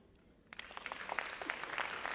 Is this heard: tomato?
no